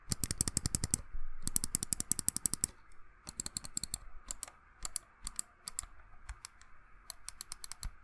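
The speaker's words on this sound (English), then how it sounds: "Here is a glorious Model O mouse button sound test." Model O gaming mouse buttons with Omron mechanical switches click in rapid bursts of sharp, close, loud taps, separated by brief pauses and scattered single clicks.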